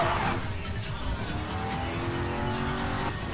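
A car in Need for Speed Most Wanted drives hard with a steady engine roar and squealing tires, loud and continuous through the short stretch.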